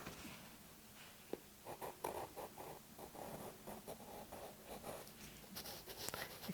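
White pastel scraped across a toothy, textured drawing ground, giving soft dry scratchy strokes in short repeated bursts, close and fairly quiet.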